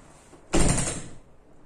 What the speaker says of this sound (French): c'est juste mon chat qui joue avec la porte